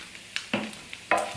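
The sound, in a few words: flour being stirred into pasta sauce in pan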